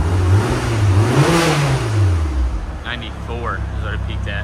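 A 1996 Mitsubishi Lancer Evo with its resonator deleted revs up loudly, the engine note climbing and falling in a couple of close, throaty pulls before settling, with someone speaking briefly toward the end.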